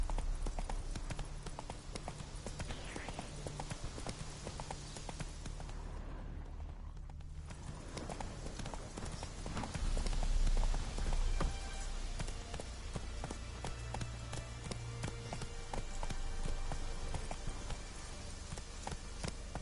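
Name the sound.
horse galloping in The Witcher 3 video game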